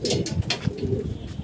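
Pigeons in a loft coo softly while they feed, with a low, continuous murmur of coos under brief higher flutters, all close by.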